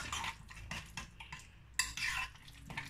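A spoon stirs sandwich sauce for a chicken and vegetable sandwich in a bowl, producing repeated close scraping and clinking strokes in an uneven rhythm, with one louder clatter near the end and no talking.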